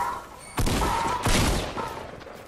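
Fortnite gunfire breaks out in two or three loud, close bursts of rapid shots across a couple of seconds, with no voices over them.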